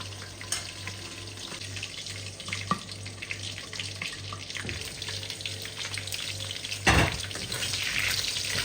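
Oil crackles and spatters steadily in a pan of frying squash and string beans, a busy close sizzle with a few sharper pops and a brief louder burst near the end.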